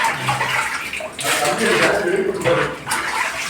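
Water poured out by hand in a bathroom, scooped and splashed toward a toilet, with bursts of splashing broken by short pauses while people talk over it.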